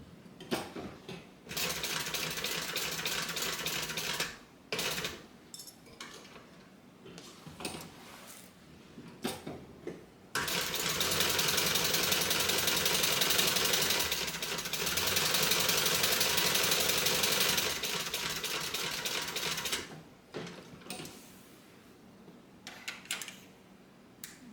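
A sewing machine runs in long steady bursts while stitching around the edge of a fabric rectangle for a bag, with short pauses between runs where the fabric is turned, close and fairly loud.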